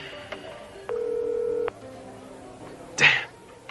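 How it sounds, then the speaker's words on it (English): A telephone number is dialed: a short tap, a steady touch-tone beep held nearly a second, faint follow-up tones, then a brief bright ringing chirp, all fairly close over quiet room noise. "I dialed my own number."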